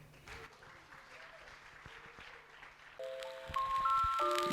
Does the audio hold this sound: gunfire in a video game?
no